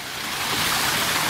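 Water from a fountain and small waterfall rushes in a continuous, broad splashing roar that swells slightly and holds steady, close by and without voices.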